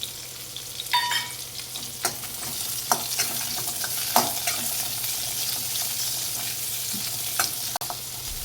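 Dry red chillies sauté in a pan of hot oil for mutton varuval, a continuous close sizzle broken by scattered spoon scrapes and stirring knocks, with no talking.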